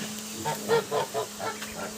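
Several short nasal honks from geese come in a loose cluster, fairly faint over a steady low hum.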